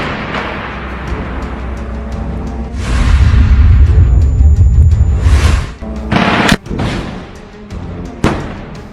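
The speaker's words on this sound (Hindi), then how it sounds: "इसके बाद ये लड़ाका मलबे में छिपकर इस रॉकेट को सामने की एक बिल्डिंग पर फायर कर देता है।" A shoulder-fired rocket is launched from rubble at a building in urban combat in Gaza, with a sustained roaring rush followed by sharp loud bangs and booming impacts amid rumbling background noise.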